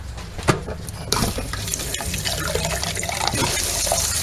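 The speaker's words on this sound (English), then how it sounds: "There is some air in the line, that's why you're hearing that little bubbling noise." Cold water runs steadily from a camper sink faucet in an older Skyline RV, a broad rushing hiss with sputtering and bubbling from air in the line, growing fuller after the first second.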